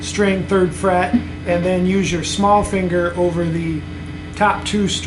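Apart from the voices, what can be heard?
None of the usual background noises is heard.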